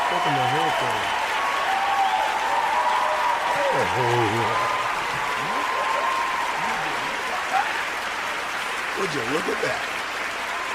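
Scattered clapping sits low beneath someone talking throughout, with a steady background hum and a continuous soft crowd-like wash.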